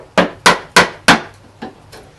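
A hammer strikes a chisel to chip out pallet wood, six sharp knocks in an uneven rhythm, the last two softer, close and alone.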